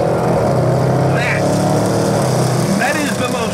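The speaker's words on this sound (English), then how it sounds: "That is the most roary exhaust note of any major car maker right now." A 2015 Land Rover Range Rover Sport SVR accelerates with a loud, continuous roar from its engine and exhaust, the tone climbing steadily and staying up close throughout.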